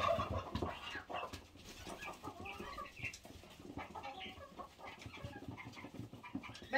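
A rooster with a showy comb and long tail feathers clucks close by in a farmyard, with busy, continuous cackling and other fowl noise throughout.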